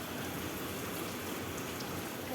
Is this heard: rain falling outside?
yes